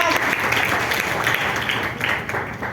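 A church congregation claps together, a loud, dense burst of applause with voices mixed in throughout the short stretch.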